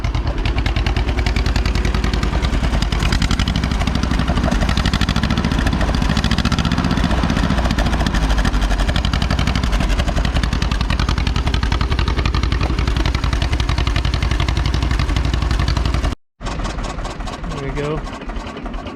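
A 1949 John Deere MC crawler, left sitting for 20 years, runs with its PTO spinning, giving a loud, steady, rough engine drone close by that cuts out abruptly near the end before resuming.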